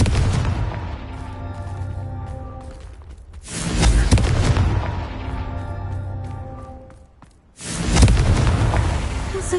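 A blasting curse explodes in a video game, a heavy booming roar that swells twice with a brief quiet dip between, loud and close, with a steady tonal hum underneath.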